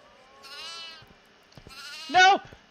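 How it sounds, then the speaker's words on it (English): In the horror video game Devour, a goat lets out two bleats, the first thin and wavering, the second a louder, harsher cry, with faint clicks and movement sounds between them. "No! The goat!"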